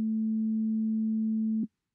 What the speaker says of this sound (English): I'm just going to only call up the sine wave.